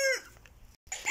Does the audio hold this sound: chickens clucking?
yes